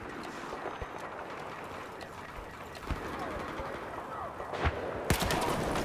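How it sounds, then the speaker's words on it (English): Shotgun blasts in the Battlefield 4 video game, sharp broadband bangs amid continuous gunfire and battlefield noise, with a couple of louder shots near the end standing out over the din. "Oh, he had a shotgun."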